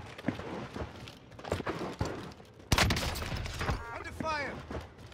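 Gunfire on Rebirth Island in Call of Duty Warzone, scattered shots and short bursts throughout, with a dense, louder burst near the middle, mixed with footsteps and game sound effects.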